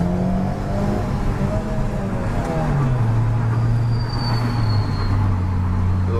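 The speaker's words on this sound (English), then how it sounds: "There's a VTEC, you can see that." A modded Honda Civic Si engine revs hard, its tone climbing sharply as it crosses into VTEC, loud and close with a rising howl and no voices over it.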